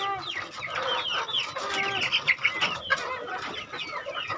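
Several chickens cluck and squawk close by in a busy, overlapping chorus, with short sharp calls rising and falling.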